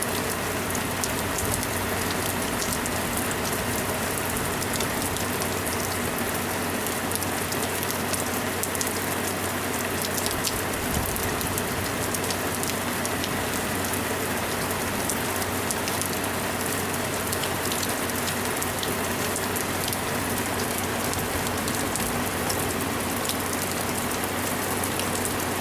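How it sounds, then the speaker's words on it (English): Heavy monsoon rain pours down without a break, a dense, loud hiss of drops drumming on surfaces that stays constant throughout with no voices. "It just started to pour"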